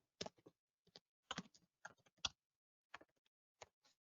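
Keystrokes on a computer keyboard while a LaTeX label command is typed in Overleaf, coming in quick irregular bursts of crisp clicks separated by short pauses, close and fairly quiet, with no talking.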